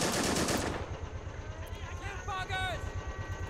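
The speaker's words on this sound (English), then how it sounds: "What is that, a machine gun?" Machine gun fire in the WWII game Men of War: Assault Squad on Saipan, a rapid rattling burst up front fading into rhythmic distant firing with whistling tones and rumble.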